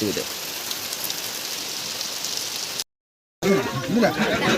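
Heavy monsoon rain falling steadily in a village, a dense continuous hiss close by that cuts out briefly, then returns with voices talking over it.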